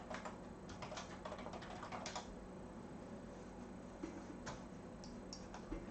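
Faint keystrokes clatter on a computer keyboard, irregular bursts of clicks with short pauses between them, quiet and close against a low steady room hum.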